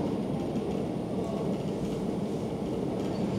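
Train 156406 running along the rails, a steady loud rumble and roar heard from on board, constant throughout with faint talk beneath.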